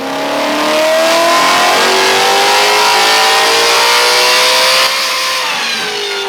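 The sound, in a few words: Ford Mustang GT350 engine revving on dyno, E85 fuel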